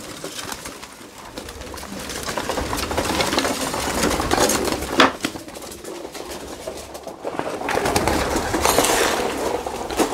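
Hungry pigeons in a loft make a steady, close murmur of low cooing and bird calls with wing flutters and scuffling, louder toward the end, and no talk.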